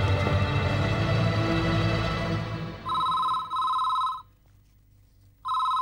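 A telephone bell rings in a household setting, loud and close: two long bursts of ringing, a pause of silence, then it starts ringing again, following a stretch of dense background sound.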